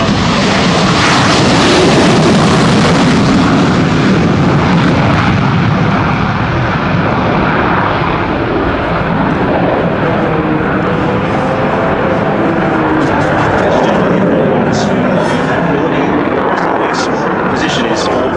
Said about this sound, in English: coming down the runway with full afterburn selected